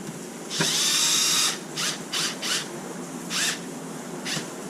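Low-speed power driver with a socket bit on screws of a Traxxas Maxx 4s RC car, one long whirring burst followed by several short pulses, close and alone.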